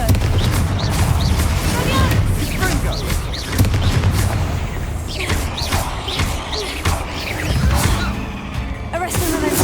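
Fiery Confringo spell blasts booming in a tomb in Hogwarts Legacy, a dense run of loud explosive bursts and cracks over a constant rumbling background.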